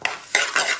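Ingredients toasting in a pan for a Sylheti Bengali fish head curry, stirred with a utensil: a few brief scraping stirs over a soft sizzle, close and moderately loud, with no voices.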